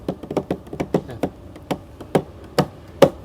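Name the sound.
imitation of a bass drum double stroke with the right foot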